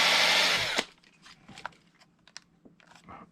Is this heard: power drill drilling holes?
yes